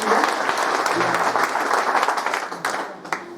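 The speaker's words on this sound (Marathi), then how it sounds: "मग शिक्षकांसाठी आपल्या एक जोरदार टाळ्या." A school reunion crowd gives the teachers a loud, dense round of applause that fades gradually over a few seconds, with a voice faintly audible near the end.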